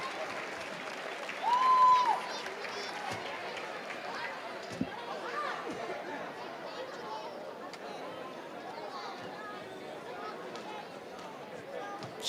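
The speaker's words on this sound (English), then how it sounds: "Let's give all the young ladies that have gotten an award and worked on it tonight a big round of applause" A crowd in a packed gym at a boys' district championship basketball game, Floyd Central vs. Lawrence County, applauds award-winning young ladies with sustained clapping and murmuring. An announcer talks over the applause.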